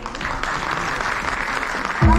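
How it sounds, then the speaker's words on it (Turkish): Applause for first-grade pupils at a school reading ceremony, a steady, moderately loud crowd clapping that swells slightly near the end. "Daha iyi bir alkış alalım lütfen."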